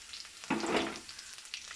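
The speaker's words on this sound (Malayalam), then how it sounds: "കറിവേപ്പില ഇട്ട് കൊടുക്കട്ടെ." Curry leaves drop into hot oil, a sudden close sizzle bursting up and crackling for about half a second before settling into quieter spatters.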